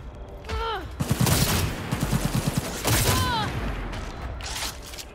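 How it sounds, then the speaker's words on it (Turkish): Sniper rifle fire in the video game Cyberpunk 2077, heavy booming shots with rattling mechanical clicks and high chirping effects, loud and close, with game noise underneath. "Keskin nişancı tüfeği ha. Vay, ilk kez kullanacağım ha."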